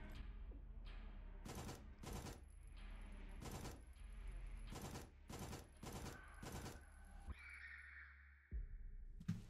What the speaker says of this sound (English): Grab the spear, shoot it dead, and that should get you the final three remaining achievements.